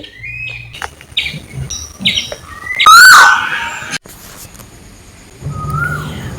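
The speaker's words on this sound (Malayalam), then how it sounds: "പലയിനം പക്ഷികളുടെ ശബ്ദങ്ങൾ കേട്ടുകൊണ്ട് നമുക്ക് വീഡിയോയിലേക്ക് പോകാം" Several different birds chirp and call in turn, short whistled notes and a louder burst of tweeting in the middle, fairly close, with no talking.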